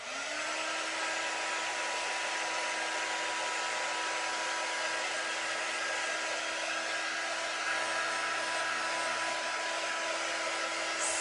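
A hair dryer blows steadily and loudly at close range, drying a DIY project ahead of waxing, with a constant whooshing roar and motor whine that hold unchanged throughout with no speech.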